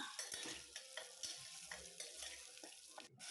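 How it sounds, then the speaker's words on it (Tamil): Close-up sizzle of goat trotters frying in oil, with repeated scraping strokes of a spoon stirring the pan. "ஒரு அஞ்சு நிமிஷத்துக்கு எண்ணெயிலே இந்த மாதிரி கிளறி விட்டு வேக வச்சுக்கலாம்"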